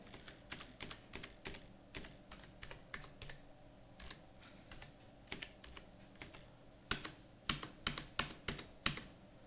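Fingers tap on a computer keyboard in a quiet room, with soft, irregular clusters of key clicks that turn louder and more emphatic near the end.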